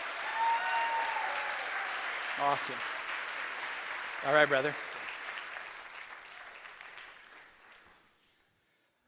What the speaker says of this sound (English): I got a family that would love to cheer for you.